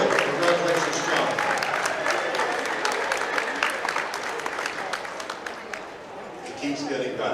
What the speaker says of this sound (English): How about a big round of applause for Walton Hall of Famer, John Warlick.